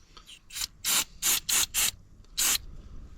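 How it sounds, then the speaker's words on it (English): Short hissing aerosol bursts of silicone oil sprayed onto an airsoft rifle, five or six close, loud blasts of about a quarter second each, evenly spaced, with one more after a brief pause and no talking. "the silicone oil that I'm spraying"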